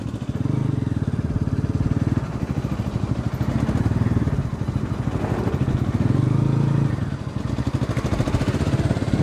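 A Bajaj Pulsar RS200 motorcycle engine pulses steadily and close by while being ridden hard, its loud throbbing note dipping and surging with throttle changes throughout.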